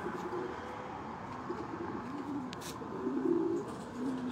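Homing pigeons coo in low, throaty phrases that repeat over a steady wash of outdoor background noise, with the calls fairly close and moderately loud.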